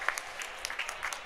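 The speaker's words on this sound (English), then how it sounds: "The crowd shows their appreciation." Spectators at a broomball game clap in a light, scattered patter of hand claps, brief and moderately near, with no voices over it.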